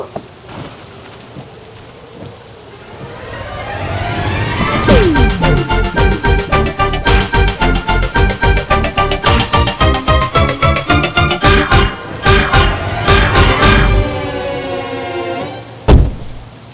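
Heavy rain drums loudly on a surface in a rhythmic patter, with a low rumble underneath and no voices.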